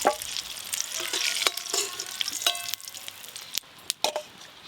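Eggs frying in hot oil in a pan for a Bengali egg posto curry, a steady crackling sizzle with sharp spattering pops and scrape-like clicks of stirring, close and loud with no talking.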